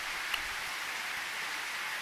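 Steady rain falls in the video game Edelweiss, a soft, even hiss that stays constant throughout, with one faint tap near the start and no voices.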